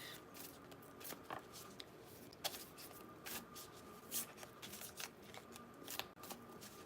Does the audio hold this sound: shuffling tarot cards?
yes